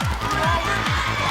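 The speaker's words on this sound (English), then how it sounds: "Crowd urging them on" Crowd cheering and shouting at a school-style sports day race, a steady loud wash of voices with rhythmic low thumps of running footsteps underneath.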